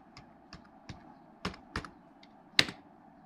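Keys on a laptop keyboard are pressed in a short, irregular burst of about eight close clicks, some sharper than others, in a quiet room with no talking.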